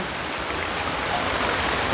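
Steady rain pours down outdoors, falling on chili plants in flower, making an even broadband hiss that stays constant and fairly loud throughout.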